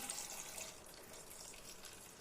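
Tiger nut (chufa) milk is poured into a blender over apples and physalis for a morning smoothie, making a close, steady, splashy trickle that is strongest at first and then settles into a softer flow.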